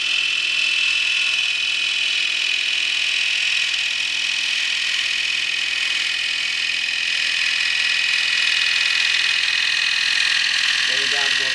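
A turning tool cutting a wooden bowl on a lathe, a continuous close whirring hum with a steady high hiss from the cut, unbroken for the whole stretch.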